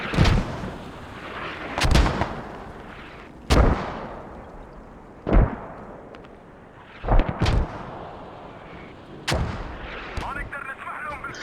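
Mortar fire in a competitive multiplayer war game: a series of loud, booming blasts at irregular intervals of roughly two seconds, each with a sharp attack and a rumbling tail, while a commentator talks faintly underneath.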